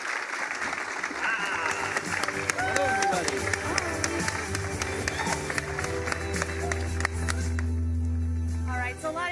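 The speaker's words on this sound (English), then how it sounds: "Let's give them a round of applause." A live audience at a PlayStation 4 E3 press event applauds the Santa Monica Studio team as they come out. Sustained clapping mixes with a voice over the sound system and a low hum throughout.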